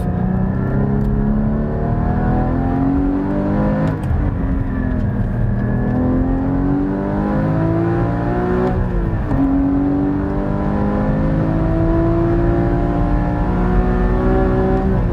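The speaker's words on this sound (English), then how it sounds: "Listen to that exhaust note. Man, is it good." A Porsche Cayman GT4's exhaust roars continuously, revving up and down through gear changes, loud and close, with no voices.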